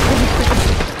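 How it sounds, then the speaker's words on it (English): Booming cannon fire in the Sea of Thieves pirate game, a dense, loud run of heavy blasts and thuds with no pauses between them. "Someone's shooting at me just for the heads up."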